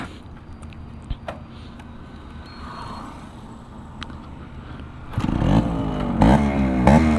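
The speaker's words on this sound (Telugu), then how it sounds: "ఒక్క కిక్కే స్టార్ట్ అయింది, అంటే అంత కండిషన్లో ఉంది బండి." A Yamaha RX-135 two-stroke 135cc motorcycle is kick-started: a few light clicks and clatters, then the engine catches and idles with a loud buzzing rasp and blips of revving nearby.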